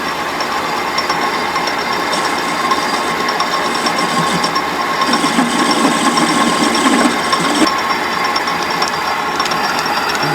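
A metal lathe cutting a chamfer while making a custom tool, a steady mechanical hum and whir running throughout with a slightly busier, grittier stretch midway as the cut engages, fairly close and without voices.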